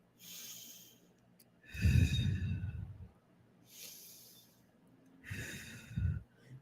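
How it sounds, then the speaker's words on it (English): Alternate nostril breathing exercise: slow, close nasal breaths, each inhale and exhale a soft airy rush, with two stronger, deeper breaths standing out in a quiet room and no talking. "Alternate nostril breathing."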